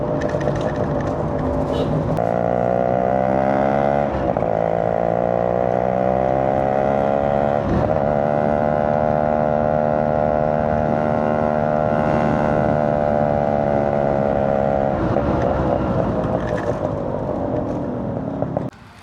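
Yamaha RX100 two-stroke motorcycle ridden around Mysuru, its loud, close, buzzy engine climbing and dropping through several rev changes for the whole stretch, with no talk.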